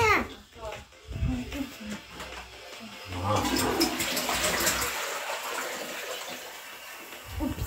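A toilet flushes after its button is pressed, a loud rushing water surge that starts midway and keeps draining steadily to the end, following voices talking nearby.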